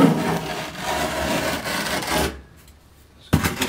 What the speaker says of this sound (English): make a little bit of a scrape up here